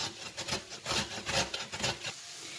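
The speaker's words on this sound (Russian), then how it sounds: "Я буду натирать на крупной терке." Carrot rubbed back and forth on a coarse grater, a close, rhythmic series of rasping strokes about every half second, steady and fairly quiet with no voices.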